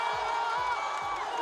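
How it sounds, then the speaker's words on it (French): An audience at the Babi Dance Battle 2018 cheers and claps for four dancers, a dense roar of crowd noise with a steady thumping beat underneath. "Applaudissements pour eux, s'il vous plaît."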